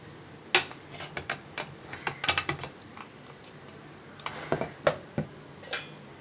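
Lid of a pressure cooker holding cooked rice and lentils being opened, a run of sharp metallic clicks and clanks in irregular bursts, close and fairly loud, with no talk.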